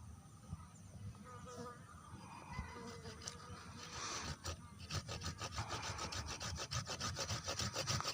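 A hand saw cutting a V-shaped notch into a bonsai tree, rhythmic back-and-forth rasping strokes growing steadier and louder, close by, with faint background noise.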